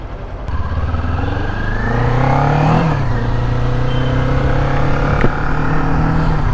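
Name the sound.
motorbike engine started and running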